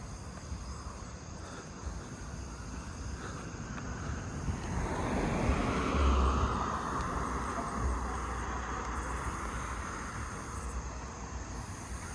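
A car passing on a road at night: a soft rumble swells from a distance, peaks close by in the middle, then fades away again over a constant bed of outdoor insect noise.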